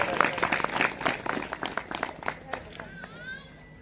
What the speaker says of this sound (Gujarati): એમને તાળીઓના ગડગડાટથી આપણે વધાવીશું।